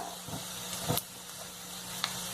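Cumin seeds and asafoetida sizzle in hot oil in a pan, a steady close frying hiss with a few faint clinks of a utensil over it.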